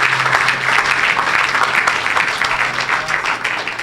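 A church congregation applauds loudly and steadily, a dense wash of clapping from a large crowd with some cheering mixed in, close and sustained throughout.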